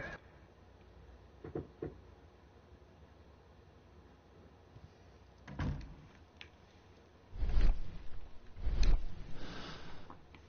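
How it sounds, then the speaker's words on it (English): Knocks at a back door in the Sherlock Holmes: Crimes and Punishments video game arrive as a few soft, spaced thuds, the last two louder, over a low, quiet game background. "someone tapping on the back door."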